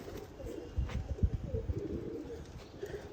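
A pigeon coos softly in low, repeated throaty pulses, close by and quiet, with no talking.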